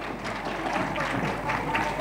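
Applause from a school audience after lively performances at a drama event, a soft, diffuse patter of clapping heard at a distance, fairly faint and continuous.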